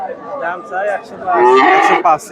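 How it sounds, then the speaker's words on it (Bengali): A local desi dairy cow moos at Chandaikona cattle market, with several drawn-out, close, loud lows and a final short call, amid market bustle. "এটা গাভী দেশি গাভী"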